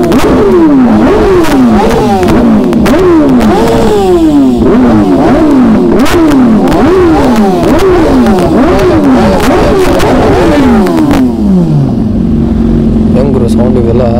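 A motorcycle engine revs hard again and again in quick rising bursts, loud and close, then settles to a lower idle near the end.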